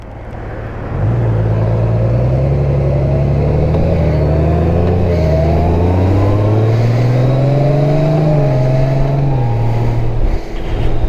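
A 2024 Honda Goldwing motorcycle pulling away from a stop and accelerating, a loud, smooth engine note climbing in pitch through successive gear changes, heard close from the rider's position, with no speech.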